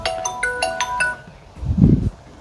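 A mobile phone rings for an incoming call, a quick melodic tune of bright repeated tones for about a second, followed by a low dull thump.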